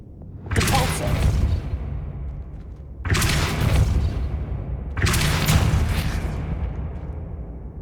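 A Depulso pushing spell is cast three times in the video game Hogwarts Legacy, each cast a loud booming whoosh and blast that trails off before the next, evenly spaced about two and a half seconds apart.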